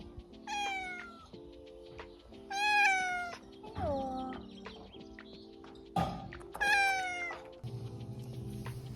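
Pet cats meow outdoors beside a small guest house in France, several drawn-out, rising-and-falling meows repeated at intervals, fairly close and moderately loud, with faint background noise and no talking.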